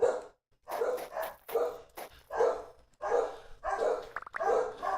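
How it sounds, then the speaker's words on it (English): Puppies in the video game Vintage Story yapping in a quick series of sharp, close barks separated by short gaps. "The puppies are excited."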